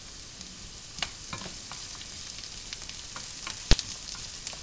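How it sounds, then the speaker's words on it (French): Onions, diced carrots and garlic fry in a pan for bolognese sauce, a gentle constant sizzle with sporadic stirring scrapes and one sharp utensil knock, close by and without speech. "je rajoute l'équivalent de 2 carottes coupées en cubes, 2 petites carottes"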